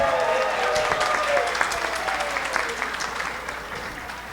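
Audience applause at a financial talk in Belo Horizonte, a dense, steady wash of many hands clapping together that fills the room and slowly thins toward the end.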